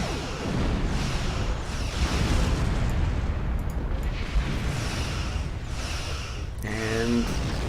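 Explosions in the space game Star Trek Online during a Starfleet engineer tutorial mission, a few rumbling bursts rolling under continuous game noise, with a short voiced tone near the end.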